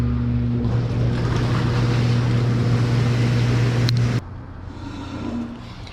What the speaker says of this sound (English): And then we'll want to kick on the jets